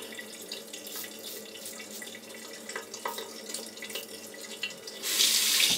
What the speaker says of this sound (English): Let's have a rinse.